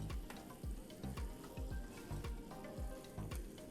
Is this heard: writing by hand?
no